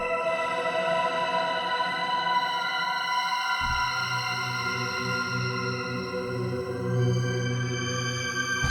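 A sustained synthesizer pad, made with Arturia's EFX plugins, drones with shimmering layered tones, and a low warm bass layer swells in partway through, with no voices.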